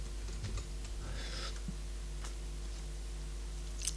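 Typing on a computer keyboard while setting up desktop themes on MX Linux: a few faint, scattered key clicks, quiet and close, over a steady low hum with no talking.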